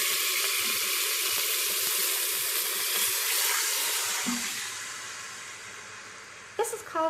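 Beef broth mixed with Worcestershire sauce streams into a hot pressure cooker pot, a continuous hissing pour that sizzles and fades away, with a few clinks at the end.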